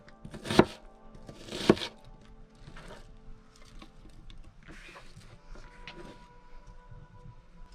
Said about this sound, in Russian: Крупненько порежу.